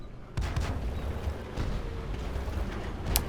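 Tank main gun blasts from a Strv m/42-57 Alt A.2 in World of Tanks during a match, two or three heavy booms with rumbling tails, loud and close over a steady low battlefield drone.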